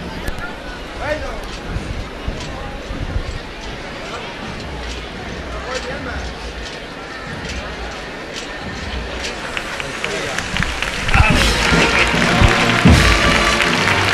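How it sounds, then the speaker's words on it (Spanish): Crowd noise at the departure of a Holy Week procession in Marchena, Spain, on Holy Wednesday, with people talking throughout over a busy bustle; applause swells louder and denser in the last few seconds. "el pueblo una vez más rompe en aplauso para recibir a Nuestra Señora de los Dolores"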